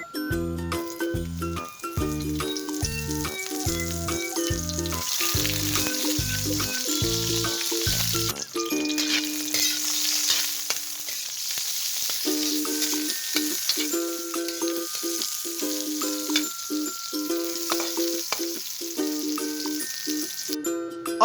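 Eggplant fries in hot oil with a steady, bright sizzle and crackle, heard up close over background music, without speech.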